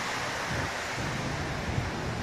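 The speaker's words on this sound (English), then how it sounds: "and it's pouring rain." Heavy rain pours down over an IKEA parking lot, a dense, even hiss of falling water with a soft low rumble beneath, steady throughout and no voices.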